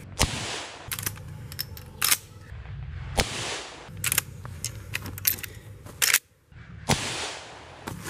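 Rifle shots fired one at a time at a tannerite target outdoors, a string of sharp cracks spaced a second or so apart with brief gaps between them and no explosion following.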